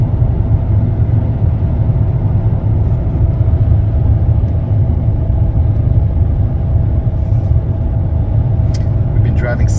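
A 2005 Mercedes W211 E320 CDI cruises on a highway, heard from inside as a steady, loud low road and engine rumble with constant tire drone and no pauses.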